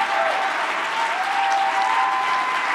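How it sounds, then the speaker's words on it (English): Loud, continuous applause from a crowd at a Libertarian candidates' debate, dense clapping with a few faint cheers mixed in. "Big round of applause."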